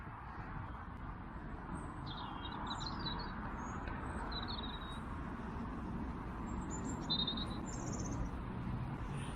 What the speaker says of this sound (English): Hopefully you can hear the blackbirds tweeting away up there.